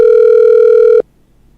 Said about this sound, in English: It's ringing. It continues to ring.